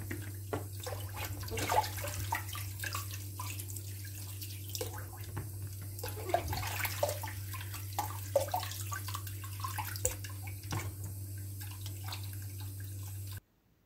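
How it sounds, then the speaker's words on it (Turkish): Plums washed under running water from a tap, steady close splashing and trickling with scattered drips over a constant low mains hum, no talk. "eriklerimi tertemiz yıkadım. Bol su ile birkaç defa yıkadım."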